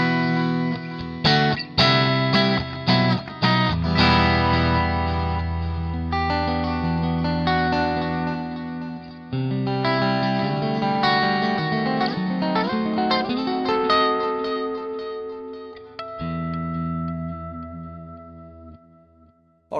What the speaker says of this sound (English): which is a very basic sounding clean tone,